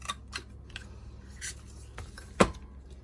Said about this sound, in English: I can just make a banner with my scissors